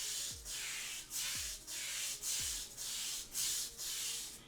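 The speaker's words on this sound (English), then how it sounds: "I'm gonna scrub this." A brush scrubs tile grout after an acidic cleaner has been left to dwell. It makes a quiet, rhythmic series of about six rasping back-and-forth strokes, each a brief hissy rub with short pauses between, and no talking.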